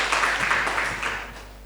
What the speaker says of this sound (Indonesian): Tepuk tangan dong ya.